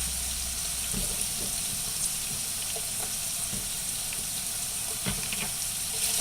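Celery hits hot oil in a pan and settles into a steady, close sizzle and crackle, with a few soft clatters of the pan or utensil and no talk.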